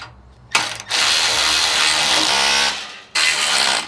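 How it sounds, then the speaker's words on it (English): A ratchet wrench tightening the plate bolts of a rear swing-out bumper on a Jeep Gladiator, quick clicking ratchet strokes in a few separate bursts, close and loud. "Put a wrench back there where our fingers are. And we'll tighten this plate down."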